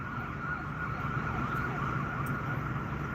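Emergency vehicle siren at a roadside scene in Austin, Texas, a steady faint wail blended with traffic noise, distant and continuous for the whole stretch.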